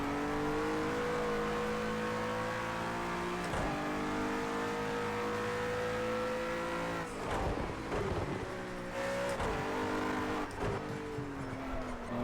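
A race car engine in the Project Cars 2 racing game holds a steady high drone, then drops and revs back up through gear changes, loud and continuous with no talk over it.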